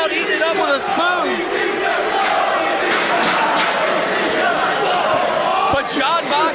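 A wrestling crowd roars at a CZW match between two wrestlers after a piledriver through a table, loud continuous cheering and shouting with scattered thuds and a commentator's voice over it.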